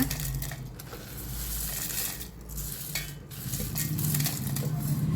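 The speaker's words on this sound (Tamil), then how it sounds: "வறுத்த வேர்க்கடலைங்க இந்த வடச்சட்டி சூடில் மட்டும் லைட்டாக வறுத்து விட்டுக்கிறேங்க" Peanuts are lightly roasted in a hot kadai for a ready-made chutney, giving a steady close rattle and scrape of nuts being turned in the pan, with a soft background hiss throughout.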